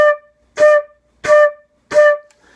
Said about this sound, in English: So if I have staccato marks on those quarter notes, they'd sound like this.